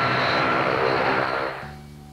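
A transport aircraft's engines roar loudly and steadily in flight as it heads into a stall, then the noise drops and thins toward a lower, quieter drone.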